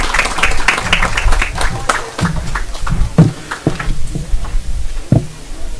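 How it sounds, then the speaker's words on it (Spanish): Sustained applause from a crowd, a steady patter of claps, loud and close. "Fuertes aplausos."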